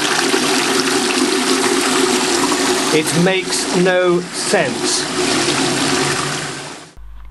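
A toilet flushed with drinking water gives a loud, continuous rush of water for several seconds. A voice speaks briefly in the middle before the sound cuts off abruptly.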